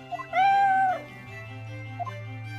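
Eve the cat in the game Professor Layton vs Phoenix Wright lets out one drawn-out, clear meow bracketed by short chirps, loud and close over a low sustained hum of background music.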